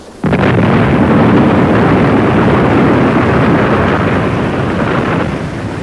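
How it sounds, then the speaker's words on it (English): A sudden loud boom bursts in and rolls on as a heavy, sustained rumble that barely fades. "There was a loud explosion."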